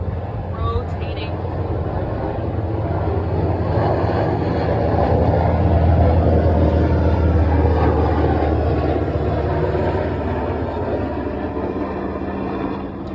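A massive helicopter passes by outdoors, a loud, steady rumbling drone that swells slightly toward the middle and holds throughout.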